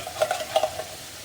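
Cucumbers sizzling and frying in a pan for solyanka as tomato paste is added, with a few soft stirring scrapes and clicks of a utensil over a steady hiss.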